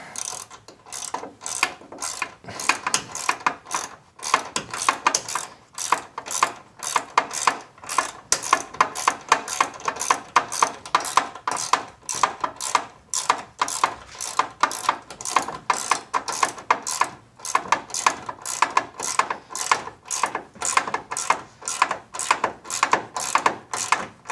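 Ratchet wrench tightening running board bolts on a 2016 Toyota Tundra, a long, loud, steady run of rapid metallic clicks close up, continuing almost without pause.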